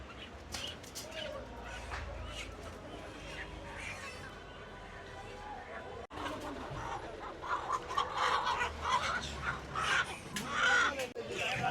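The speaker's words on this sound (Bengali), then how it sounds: "দর্শক দেখতে পাচ্ছেন বর্তমানে মুরগির বাজার" Many chickens cluck and squawk close by in a busy, noisy crowd at a night-time wholesale poultry market in Kaptan Bazar, with people talking in the background.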